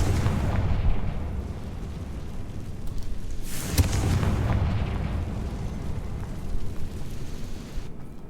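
A Confringo fire spell bursts in Hogwarts Legacy, giving a heavy, rumbling explosion that swells into a sharp blast midway and then rolls on in a long, loud, crackling roar with no talk.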